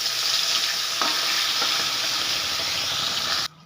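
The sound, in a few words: frying fish in oil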